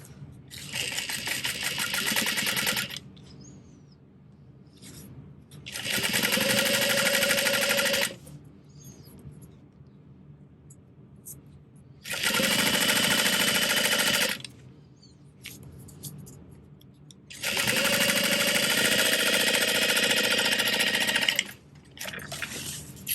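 A domestic sewing machine stitching the bottom panel onto a carry-all bag at a 3/8 inch seam allowance, running in four loud, steady bursts of rapid mechanical whirring separated by quiet pauses, close up and with no talking.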